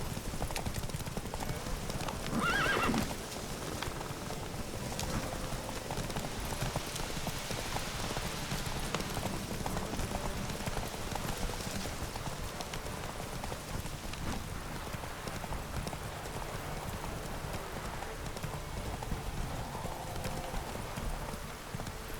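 A horse gallops in a race in The Witcher 3, steady rhythmic hoofbeats close up under a constant rain-like wash, with a louder burst of movement early and no talk.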